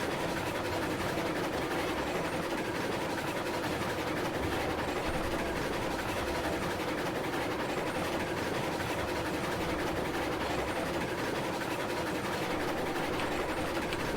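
A steam train rolls along steadily in the railroad game Railroads Online, with a continuous dense rumble and clatter throughout, loud and unbroken with no voices.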